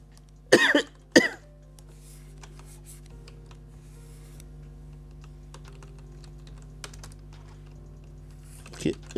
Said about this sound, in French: je fais n'importe quoi avec le mon clavier